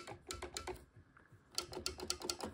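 Gear shift paddles under the steering wheel of a Thrustmaster T300 racing wheel click sharply, two quick bursts of several loud, close plastic clicks separated by a brief pause.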